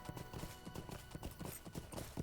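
Horse hooves clip-clopping in the online game Lord of the Rings Online, a quick, even trot of soft thuds at low volume with no talking.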